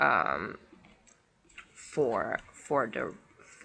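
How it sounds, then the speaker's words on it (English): A mouse click on an OK button in a statistics program after a value is entered; small, quick clicks sit under a voice talking throughout. "We click on OK after we enter that value"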